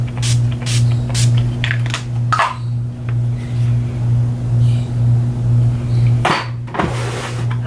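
Urban Decay All Nighter setting spray misted onto a face during a makeup routine, several short close hissing spritzes over a steady electrical hum.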